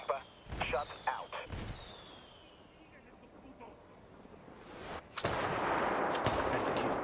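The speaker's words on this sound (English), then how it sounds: "Calling for indirect fire." Indirect artillery fire striking in the video game Ghost Recon Wildlands: sharp blasts early on, then a loud sustained roaring barrage of impacts near the end, with game voices around it.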